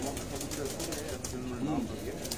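Black-faced pigeons coo softly on a rooftop in Lyari, Karachi, their low throaty calls repeating in short phrases under a man's nearby speech.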